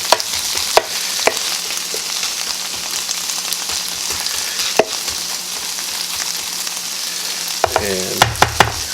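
Hash frying flat in a pan for a deluxe hash breakfast, a steady close hiss with scattered pops and crackles, ending in a few sharp clinks and scrapes from the pan.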